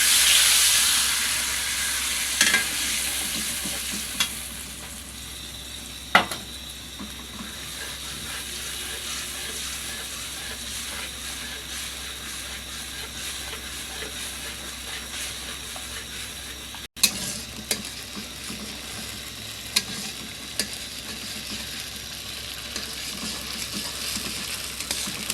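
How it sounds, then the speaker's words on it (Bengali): Mustard and poppy seed paste frying in a pan with turmeric for a hilsa fish curry, giving a loud, continuous sizzle broken by occasional sharp clicks and scrapes from stirring. "এবারে যে সর্ষে আর পোস্তর যে পেস্টটা করে রাখছিলাম এটা দিয়ে দেব।"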